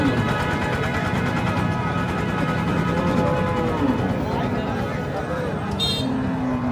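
Cattle at a busy market low and moo close by under constant crowd chatter and voices, with a vehicle horn faintly toot near the end.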